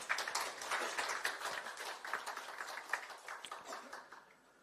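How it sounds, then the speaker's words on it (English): Audience clapping at the close of a meditation session, a soft, distant patter of many hands that starts dense and gradually thins and fades over a few seconds. "Let's give a big clap to meditation."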